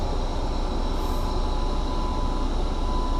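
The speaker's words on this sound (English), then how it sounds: "it does sound like the transmission is messed up" Steady broadband rumble and whine from an MCI DL3 bus running with a faulty transmission, a constant drone with a faint high-pitched tone on top and no clear breaks, heard from close by without talk.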